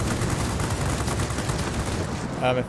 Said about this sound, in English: might as well fire my rockets, right?